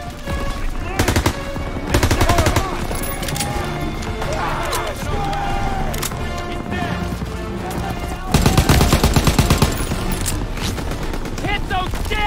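Enemy machine guns in the Call of Duty: WWII Death Factory level fire sustained rapid bursts, loud and close, with heavier volleys swelling in and out over battlefield noise while players talk over the shooting.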